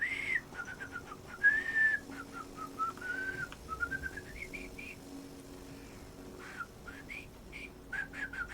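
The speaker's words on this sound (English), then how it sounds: "No, I can't whistle very well today at all." A lone person whistles a long, wobbly melody close by, made of slides and short chirpy notes with brief pauses between phrases, fairly quiet and with no talk over it.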